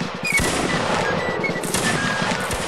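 Musket volley fire in Mount & Blade: Napoleonic Wars: a dense, crackling run of many overlapping shots rolling on steadily for nearly three seconds, with no talk.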